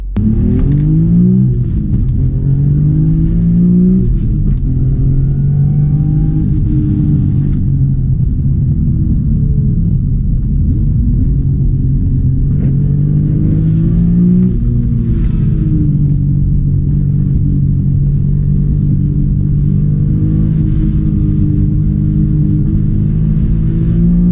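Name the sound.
BMW M car engine while driving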